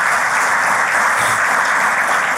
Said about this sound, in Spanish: Dale un fuerte aplauso a este Cristo maravilloso